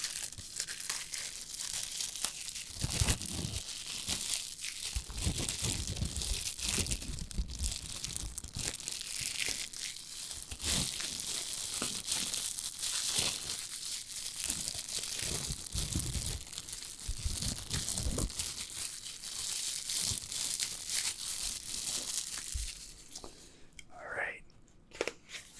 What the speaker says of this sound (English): Tear the plastic off.